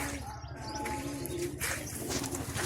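A pigeon coos in low, soft rounded calls over a steady hum, close by and continuous.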